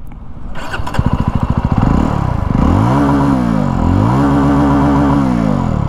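A 2024 Jawa Classic motorcycle's four-valve, liquid-cooled engine cranks, catches and settles into a loud, steady idle with a throbbing rhythm and a couple of revving swells.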